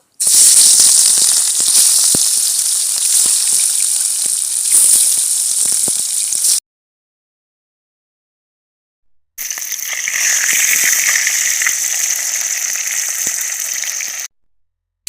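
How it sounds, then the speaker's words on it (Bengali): Rohu fish frying in hot mustard oil in a pan gives a loud, bright sizzle that crackles steadily, stops for a few seconds, then resumes just as strongly. "বন্ধুরা, তেল গরম হয়ে গেছে, আমি এখন মাছ ভেজে নেব।"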